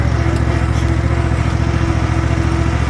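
Low, steady engine drone of a Cub Cadet ZT1 zero-turn mower with a 54-inch deck, held at low RPM, a constant near hum running evenly with no talk over it.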